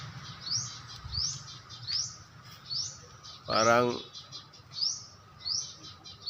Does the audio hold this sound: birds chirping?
yes